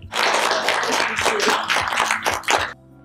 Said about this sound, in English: Clapping is in order.